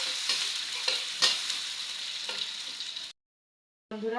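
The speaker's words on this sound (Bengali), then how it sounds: "থেকে ভাজা ভাজা করে দেবো পেঁয়াজটা।" Chopped onion sizzles steadily in hot oil with chicken in a kadai, with scraping stirs throughout. It cuts to a brief silence, then a short tonal sound at the end.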